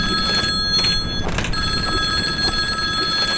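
A telephone rings inside the horror game Bear Haven Nights, a bright repeating electronic bell ringing steadily over a constant tonal hum, loud and close.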